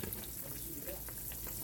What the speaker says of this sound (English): It's gonna take a little while for us to get these fried up